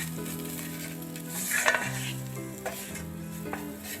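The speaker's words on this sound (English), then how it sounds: "Mix that all in with the onion." Spoon stirring turmeric and spices into onion frying in a pan, a soft steady sizzle with scraping strokes and a few light clinks of utensil against the pan, no talking.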